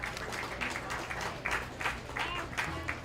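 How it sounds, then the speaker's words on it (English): A crowd at a county fair swine show claps for the exhibitors, giving steady, moderately distant applause over a low hum. "Let's give all these exhibitors a nice round of applause."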